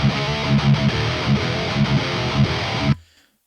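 Double-tracked metal guitars with a raw, unequalized distorted tone, a loud, dense chugging riff played alone that cuts off abruptly before the end.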